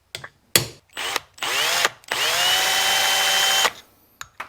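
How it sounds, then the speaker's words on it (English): A power drill bores through a vintage air fork seal from a 1982 Kawasaki KDX 450, close and loud, with short bursts followed by one long steady run and a whining spin-down, then quiet. "Well, by punching it first and then drilling a hole."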